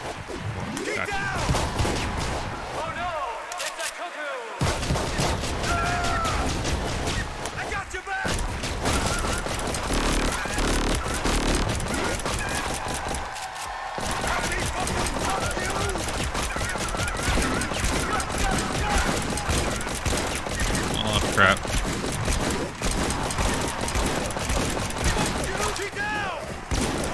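Rapid bursts of gunfire and crashing impacts fill the Deathrun TV shooter game, dense and nearly continuous with brief pauses, while a player talks over the action.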